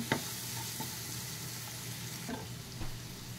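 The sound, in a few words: coriander and cumin powder stirred into frying masala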